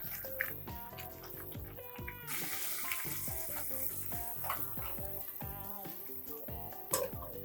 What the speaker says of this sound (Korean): 물이 끓어오르면 이제 면과 프레이크를 넣고 2분간 익혀줄 겁니다